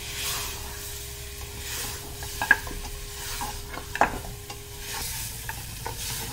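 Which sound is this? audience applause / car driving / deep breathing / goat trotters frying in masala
goat trotters frying in masala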